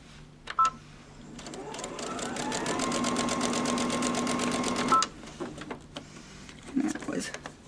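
A sewing machine stitches a paper-pieced quilt block, running steadily for a couple of seconds and then stopping, with its motor whirring and needle clattering nearby; a few clicks and small handling noises come before and after.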